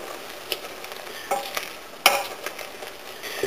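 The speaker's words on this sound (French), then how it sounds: "Et je vais commencer à écraser les baies pour en extraire le maximum de jus." Berries are crushed in a berry compote that is simmering, giving soft squishing, scraping stirs and bubbling with a few clicks from a utensil against the pot, close and moderately loud.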